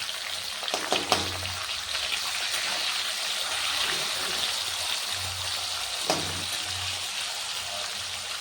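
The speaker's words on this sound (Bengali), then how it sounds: "টমেটো দেওয়াতে তেল ছিটকাচ্ছে" Tomatoes frying in hot oil in a pan, with turmeric and salt, spatter with a steady, close sizzle and crackle. A few low voice murmurs rise under the frying now and then.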